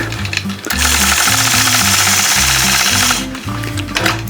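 A sewing machine stitches a straight machine-quilted line across a quilt block along a ruler, a loud, fast, steady needle rattle lasting about two and a half seconds, bracketed by slower starting and stopping stitches.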